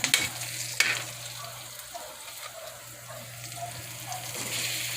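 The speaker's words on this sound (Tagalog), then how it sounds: "Gigisa na natin yung gulay toge" Bean sprouts sautéing in a frying pan with oyster sauce, the oil left over from frying fish, giving a steady soft sizzle with a few scraping stirs near the start, no voices.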